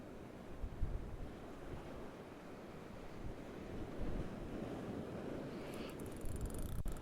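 Strong wind buffets the rocky shore at Witches Point in South Wales, a steady, loud roar of gusts and surf that swells slightly near the end, with no voices.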